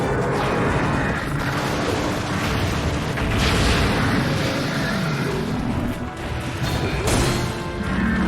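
A booming explosion goes off in Monster Hunter Generations Ultimate amid a dense run of crashes, thuds and impacts from the game's combat, loud and sustained.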